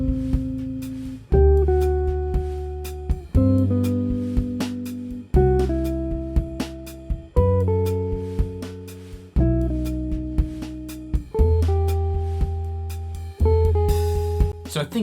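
Jazz guitar playing an A section harmonized in thirds, with plucked double-stops rising and falling in evenly spaced phrases, each note decaying before the next, close and clean with no talking.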